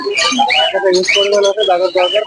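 Pet birds at a Mirpur bird market, including egg-laying breeding pairs, call loudly and close by in rapid overlapping chirps and whistled tweets with no pause.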